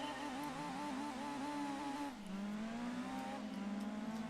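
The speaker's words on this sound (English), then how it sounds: "we have a Need for Speed engine here" A car engine in the racing game Gran Turismo 2 revs and holds a high whine, dips as the gear shifts, then climbs again steadily, heard alone and fairly loud.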